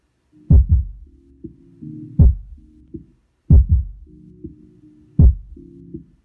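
Deep, punchy bass thumps from a 12-inch subwoofer in a loaded enclosure repeat in a slow groove of music, booming low notes pulsing in a regular pattern with brief quiet gaps between hits.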